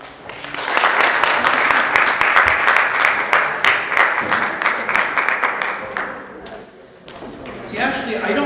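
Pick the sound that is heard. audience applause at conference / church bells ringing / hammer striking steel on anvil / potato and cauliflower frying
audience applause at conference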